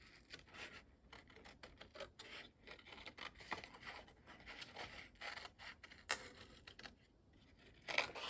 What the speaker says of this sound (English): I'm going to cut this out. I'm going to just kind of cut around it.